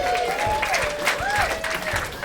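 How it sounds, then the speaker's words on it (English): A comedy club audience breaks into applause during a stand-up set, a steady wash of clapping with scattered cheers and whoops rising above it, moderately loud and sustained. "I didn't know I was gonna get an applause break on that."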